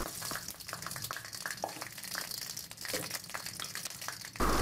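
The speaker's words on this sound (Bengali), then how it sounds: "এখন দিয়ে দিলাম একে একে সবগুলো মশলা।" Spices fry in hot mustard oil for a liver bhuna, giving a dense, continuous crackling sizzle close up with small scraping stirs throughout.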